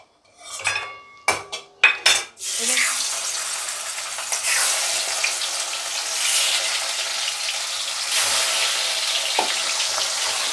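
Pieces of bhetki fish fry in hot oil in a steady, hissing sizzle. The sizzle follows a few sharp clatters of metal utensils and pans.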